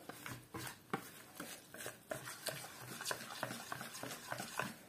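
A spoon stirs a dough starter for Tatar tabikmek pancakes, close and quiet, with a regular rhythm of soft scraping, slapping strokes repeating about twice a second.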